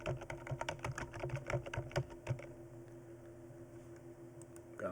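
A computer keyboard clicks in a quick, uneven run of keystrokes for about two seconds before going quiet, faint against a soft room hum.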